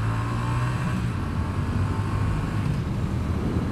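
A 2022 Triumph Bonneville T100 heritage roadster pulls away with a low, rumbling engine drone that holds steady and close throughout, with no talking.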